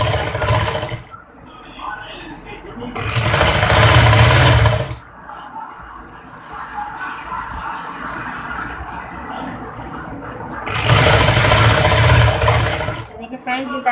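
A sewing machine stitches fabric for an apple-cut kurti in three loud close bursts of rapid whirring, with a voice talking in the quieter pauses between runs.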